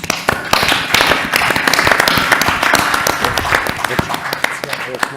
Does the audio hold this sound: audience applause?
yes